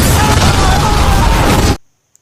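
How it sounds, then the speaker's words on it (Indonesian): A loud, dense bomb blast as a door is opened, a roaring wall of noise lasting under two seconds before cutting off abruptly into near silence with one faint tick. "sebuah bom pun meledak dan polisi-polisi itu pun modar"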